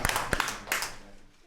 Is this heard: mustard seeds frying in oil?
no